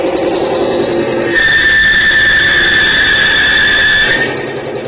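Two bare metal surfaces rub together without grease, producing a loud, sustained high-pitched squeal that holds steady for several seconds over a harsh grinding bed before easing off.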